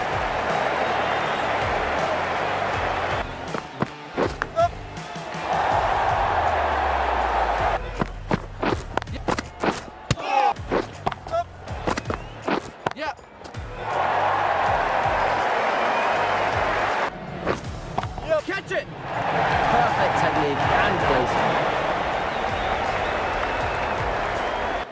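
Stadium crowd in Cricket 19 during an England vs India T20 match, loud sustained roaring and cheering broken by sharp clattering bursts, with commentary voices speaking over it at times.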